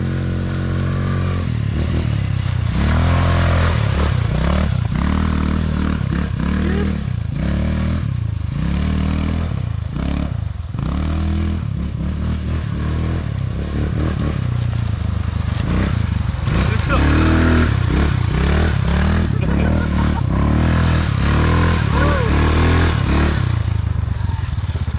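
A quad bike ATV engine runs loud and close with a rough, rising and falling drone and clattering over rough ground, as people talk over it throughout.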